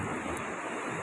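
Sea waves at a beach wash in a steady, broad roar with wind rumbling across the microphone, continuous and close for the whole short stretch, with no voices.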